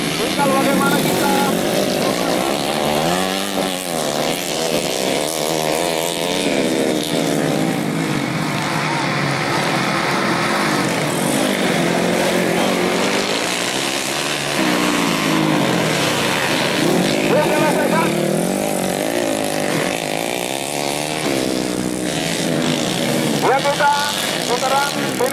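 Motor-taxi motorcycles racing on a circuit, engines droning and revving continuously with shifting pitch as bikes pass, loud and steady under an excited race commentator's voice.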